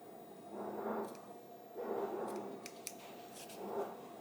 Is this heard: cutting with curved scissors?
yes